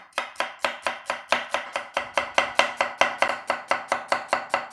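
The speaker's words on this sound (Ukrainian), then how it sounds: "Розрізаємо навпіл, відрізаємо хвостик і нарізаємо цибулю ось такими півкільцями." A knife slicing an onion into thin half rings on a cutting board, giving a fast, even run of about twenty crisp chops in a steady rhythm, close and clear, with no talking.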